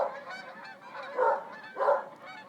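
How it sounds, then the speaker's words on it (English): Geese honk repeatedly overhead, two louder calls standing out from a steady chorus of more distant honking. "Flying in a V formation, here come the geese."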